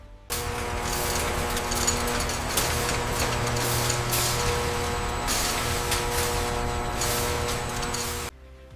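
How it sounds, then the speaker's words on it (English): Continuous loud industrial machinery of a high-speed can filler on an energy drink factory line, a steady dense mechanical roar with hissing and tonal hum running unbroken from start to finish, no talk. "The filler operates continuously through every shift without any reduction in speed or precision."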